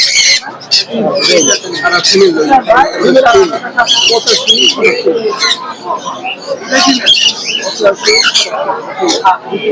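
Many caged birds at the Mirpur bird market in Dhaka chirp and squawk densely and continuously up close, with market chatter mixed in.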